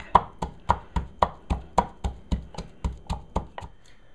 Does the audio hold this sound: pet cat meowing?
no